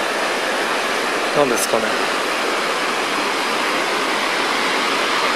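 A river rushes steadily beside a footpath in the Shima hot spring town in Gunma, a broad continuous wash of flowing water heard close by, with a brief remark spoken over it.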